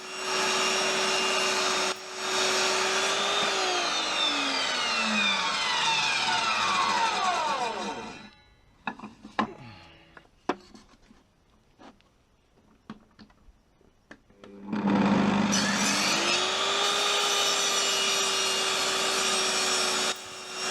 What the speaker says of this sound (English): The blade on this table saw is quite blunt, as I have been cutting quite bad timber with nails embedded.